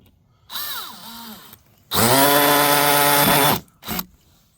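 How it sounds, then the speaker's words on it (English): A power drill whirs in two bursts while drilling holes for mounting straps on an AC condenser unit: a short, lighter run first, then a longer, louder steady drilling whine that stops abruptly, with a brief final blip. "Alright, I drilled 2 holes."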